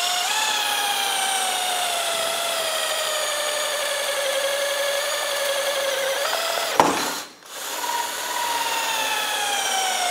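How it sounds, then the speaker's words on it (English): A power drill bores a mounting hole for an LED light bar on a Ford F350 truck, its motor whining in a steady, slowly falling pitch before a sharp catch and a brief stall, then spinning on; close and loud. "I'm drilling this hole a little big."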